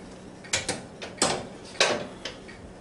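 A metal rotisserie spindle clatters into a Showtime rotisserie holding a Boston butt: several close, sharp clicks and knocks of gears and fittings scattered over a few seconds, with no talk.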